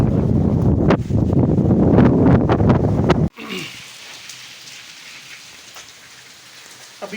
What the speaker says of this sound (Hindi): बालकनी में बैठकर बारिश का लुत्फ़ उठाया जा रहा है